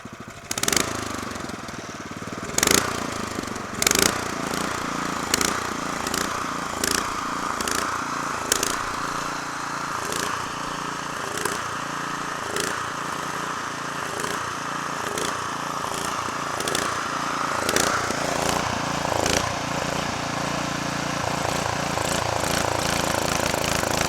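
A Honda GX390 small engine idles off half choke after rejetting, putting along with an uneven, pulsing run and repeated sharp irregular pops and crackles.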